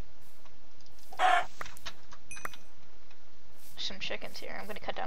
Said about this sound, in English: Some chickens here.